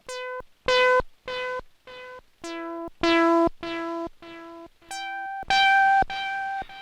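Short melodic notes from a Stylophone Gen X-1 with the delay level raised, each tone followed closely by its echo so the buzzy square-wave pitches step up and down in an uneven, clear sequence with no voices.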